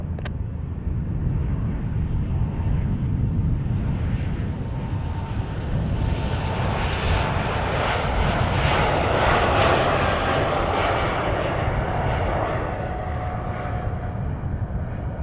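A fixed-wing airliner at Montréal-Trudeau Airport roars steadily for a long stretch, its engine noise swelling toward the middle and easing off, broad and continuous with no voices.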